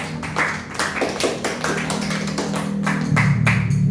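Classroom applause for two students, Habibah and Adit: a short burst of many hands clapping in quick, uneven rhythm, close and fairly loud, with no voices over it.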